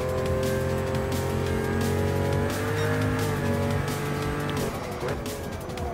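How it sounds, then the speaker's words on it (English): A Pagani Huayra mid-engine hypercar in Gran Turismo Sport roars continuously as it accelerates, its engine note loud and sustained, easing slightly near the end. "let's pick that Hypercar up and then get ready to accelerate to be able to go for the best"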